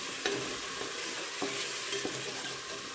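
Onion, garlic and ginger paste fries in oil in a pot while a spoon stirs it, giving a constant sizzle with a few distinct scraping knocks against the bottom, close up and without speech.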